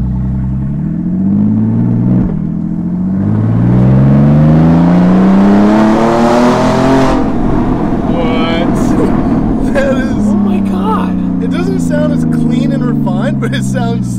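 A Porsche Cayman S with a custom straight-pipe exhaust, in sport mode, revs up loudly and close, its pitch rising and falling across several throttle blips while people talk over it.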